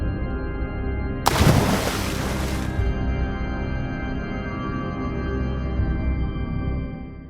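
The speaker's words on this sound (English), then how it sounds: "Connor decided to throw it out into the river." A mermaid statue thrown from a bridge hits a river with a single loud splash lasting over a second, then fades into a steady low rumble of flowing water and traffic-like background.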